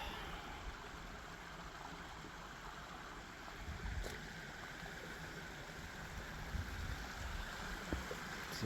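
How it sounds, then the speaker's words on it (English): A small bubbling brook runs along a hiking trail in Minnesota's Judge C.R. Magney and Cascade River state parks, a soft, continuous rush of running water heard alone and fairly faint. "The ones with the sounds of running water."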